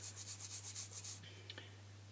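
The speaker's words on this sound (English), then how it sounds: "just different grades of sandpaper, which is kind of sandpaper sponge, and you just go for it back and front." A silver clay piece is rubbed with a sandpaper sponge in about eight quick, even back-and-forth strokes of dry scratchy sanding, close up, then it stops, leaving a steady low hum and a couple of faint clicks.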